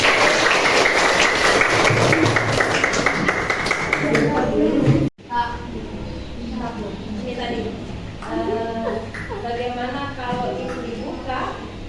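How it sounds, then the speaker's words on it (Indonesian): Children clap in a classroom in a sustained, loud burst, followed after a short cut by chatter and voices talking over fainter claps. "Tepuk tangan untuk kalian."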